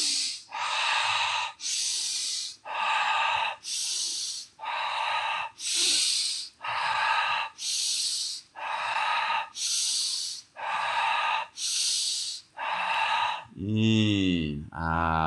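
Rapid deep Wim Hof method breathing, about thirteen strong rhythmic breaths at an even pace, close and loud, followed by a long final inhalation and exhale at the end.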